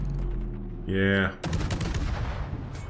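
Rapid fire from the German warship Wiesbaden in a naval video game, a burst of loud, fast, repeated shots after a short tonal blast. Earlier in the clip there is a low droning background.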